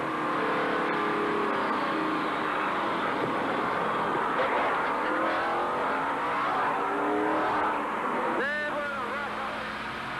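A NASCAR stock car runs at race speed through the inner loop at Watkins Glen during the 1993 Budweiser At The Glen, its engine roaring and revving under a steady, loud onboard drone, with a brief squeal near the end.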